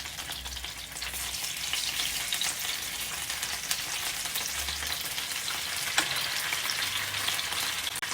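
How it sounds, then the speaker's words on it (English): Halloumi cheese fries in vegetable oil with mixed herbs in a frying pan, giving a steady, dense close sizzle with occasional pops and crackles throughout. "So I put some vegetable oil in the frying pan with a little bit of mixed herbs. You can hear it sizzling away there."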